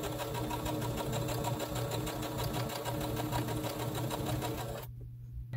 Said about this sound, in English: I'm going to stitch right down the center of that line